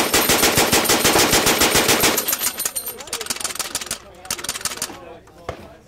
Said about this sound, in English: Now you're going to begin to crank the gun clockwise